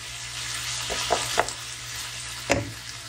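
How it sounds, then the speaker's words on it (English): Chicken lightly frying in a pan, a constant close sizzle with a few distinct clinks and scrapes of a utensil against the pan, no voices. "all I'm doing here is I'm lightly cooking the chicken"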